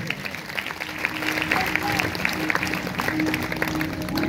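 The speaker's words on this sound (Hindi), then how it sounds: "अगर आए तो जोरदार तालियां बजा।" Church congregation applauding loudly during a Sunday sermon, a dense wash of clapping that carries a few scattered voices and ends with the room still applauding.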